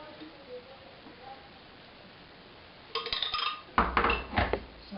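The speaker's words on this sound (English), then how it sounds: "I just stir it together until it is smooth and evenly colored" A spoon stirs blended tomato into white sauce in a pot, with metallic scrapes and clinks starting after a quiet stretch and coming in several close bursts.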